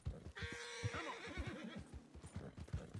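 A horse in a video game, agitated by a predator, lets out a long shrill whinny up close, with hooves clopping steadily beneath it and continuing after the call fades.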